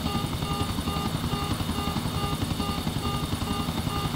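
A helicopter in the GTA IV video game at an airfield, its rotor chopping loud, close and continuous over a dense engine roar with no talking.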